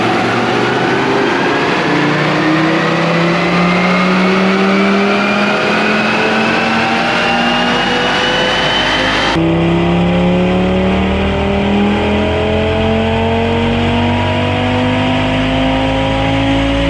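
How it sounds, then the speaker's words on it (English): A stock Audi RS3 engine revs hard on a dyno, climbing steadily through the gears in long rising sweeps, loud and continuous with no talk. "Here we have our baseline run with Alex's stock RS3."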